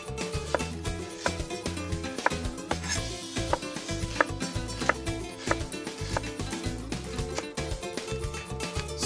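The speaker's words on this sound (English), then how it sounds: "I'm going to slice first an onion, a red onion" A knife slices through a red onion on a board in a steady series of crisp, regularly spaced chops, close and clear over quiet background music.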